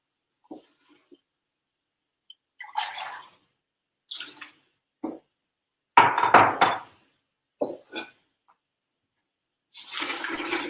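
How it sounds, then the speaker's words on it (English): Water and homemade bone broth poured into a soup pot in a home kitchen, heard as several short separate splashing pours with clinks of the pot and utensils between them, close and fairly quiet. "I'm going to add in my water and my bone broth now"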